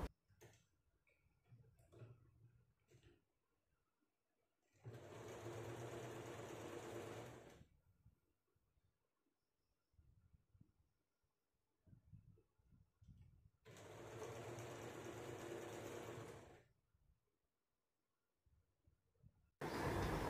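A sewing machine stitches a folded fabric strip for a kaftan nightie in two steady, fast-running bursts of several seconds each, separated by quieter handling sounds. It is close and clear, with no talking.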